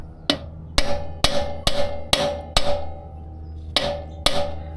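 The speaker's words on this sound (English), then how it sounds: "I'm grabbing it with one hand here and I'm hammering until this starts to disappear" Metal bushing on a Royal Enfield Himalayan 411 motorcycle lowering link being struck with a hammer: nine sharp ringing blows in a steady rhythm with a pause near the end, close and loud over a low hum.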